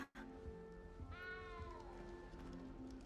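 A cat in the game Hogwarts Legacy lets out one long, drawn-out meow that rises, then slowly fades, heard fairly close over a soft game-music background.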